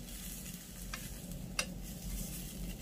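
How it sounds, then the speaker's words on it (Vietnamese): Eggplant slices pan-frying in a hot pan give a steady, soft sizzle, with a few brief stirring scrapes rising above it and no talk. "chúng ta áp chảo trước để nó không bị nát cái miếng cà của mình"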